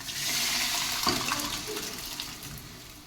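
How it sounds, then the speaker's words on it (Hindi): Boiled kidney beans (rajma) tipped from a pot into masala in a pan, a continuous watery, splashy pour that gradually tapers off, with no talk. "तो इसमें पलट देते हैं राजमा"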